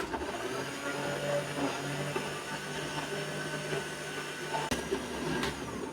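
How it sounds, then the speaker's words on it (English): A blender chops ingredients for a stuffed fish in a steady, dense whir that runs unbroken, with a brief knock near the end and no talk. "add it to the blender. I am going to chop."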